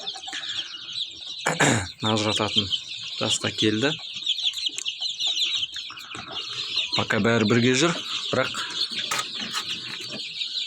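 Young chickens and roosters at a backyard poultry pen, a steady chorus of chirps and clucks close by, with someone talking over the birds throughout.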